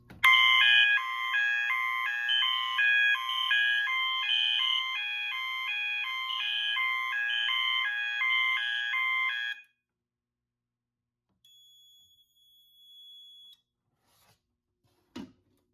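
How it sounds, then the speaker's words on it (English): A Notifier SFP-400B fire alarm control panel sounds its alarm signals, a loud rhythmic electronic pattern of alternating tones for about ten seconds, then cuts off, followed by a faint brief beep and a click. "you can press the alarm activate switch, which just activates all the signals"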